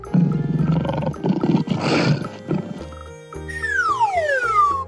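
A lion's roar rumbles up close, rough and loud, followed by a bright descending sweep of tone.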